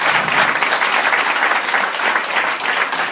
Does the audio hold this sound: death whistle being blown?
no